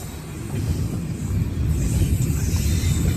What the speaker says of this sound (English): you're familiar with having to try to sleep through the noises of the train